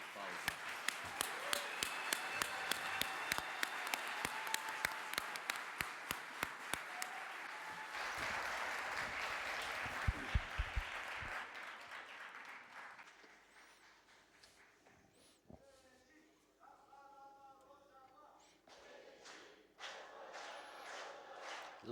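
An audience applauds to welcome a speaker at a session, with sustained clapping and a few cheers that swell then fade, followed by quieter talking near the end.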